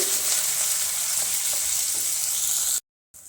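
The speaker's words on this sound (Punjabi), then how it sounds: "ਪਿਆਜ਼ ਗੁਲਾਬੀ ਜੇ ਹੋ ਗਏ ਹੁਣ ਆਪਾਂ ਹਰੀਆਂ ਮਿਰਚਾਂ ਨੂੰ ਪਾ ਦਵਾਂਗੇ" Onions and green chillies fry in a pan for aloo methi sabzi, a loud, even sizzle with faint stirring taps, cutting off abruptly near the end.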